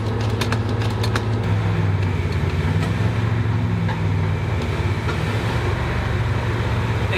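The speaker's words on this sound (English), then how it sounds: "And there's the starboard." A big-block V8 carbureted boat engine, the starboard engine, idles with a deep, loping rumble, close and loud, with a few sharp clicks early on.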